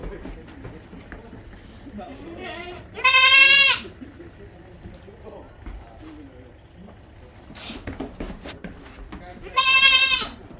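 Goats on a farm bleat loudly and nearby on vaccination day, two long wavering cries several seconds apart, with people talking quietly between them.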